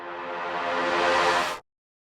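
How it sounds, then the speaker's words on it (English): A reverse-reverb brass synth for a hybrid trap drop swells up steadily from quiet to loud over about one and a half seconds, then cuts off abruptly into silence. "It's basically how you get that sort of reverse reverb,"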